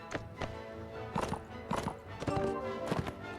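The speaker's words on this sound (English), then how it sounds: "Just take your horse for a ride around the course, go as slow or as fast as you like." Horse hooves clip-clop in a steady walking rhythm in the Mount & Blade video game, with several distinct hoof strikes close by, moderately loud, and no talking over them.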